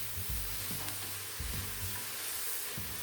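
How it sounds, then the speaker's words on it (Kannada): Amaranth greens fry in hot oil with turmeric and saaru powder for a South Indian dantu soppu saaru. A steady loud sizzle and hiss fills the clip, with periodic scraping stirs of a spoon in the pan. "ಸೊಪ್ಪೆಲ್ಲ ಎಣ್ಣೆಯಲ್ಲಿ ಒಂದು ಸ್ವಲ್ಪ ಚೆನ್ನಾಗಿ ಫ್ರೈ ಆಗಲಿ."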